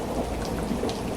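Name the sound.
rain with thunder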